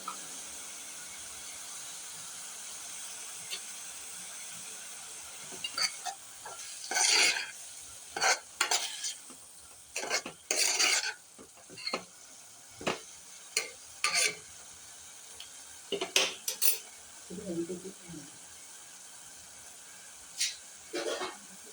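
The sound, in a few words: stirring mushrooms frying in a pan for mushroom thoran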